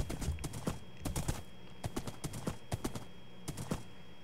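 Minecraft horse hooves clop in a brisk, uneven trotting rhythm over a faint steady hum, with no talking.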